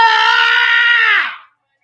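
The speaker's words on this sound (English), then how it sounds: "You know why I'm screaming?" A man lets out one loud, sustained scream lasting over a second, then it trails off abruptly into silence.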